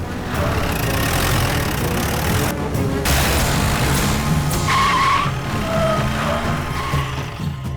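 A car's tires skid and squeal as it reverses fast during a confrontation at a temple wedding, the rubber screech running loud and continuous over an engine rumble.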